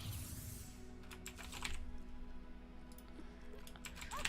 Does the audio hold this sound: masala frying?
no